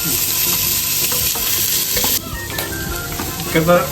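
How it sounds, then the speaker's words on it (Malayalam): Chopped capsicum and onion sauté in a hot pan with a loud, continuous sizzle, broken by scraping stirring strokes throughout, and no voices. "അപ്പോൾ ക്യാപ്സിക്കം അരിഞ്ഞത് ചേർത്താണ്, അതൊന്ന് വഴറ്റി കൊടുക്കാം"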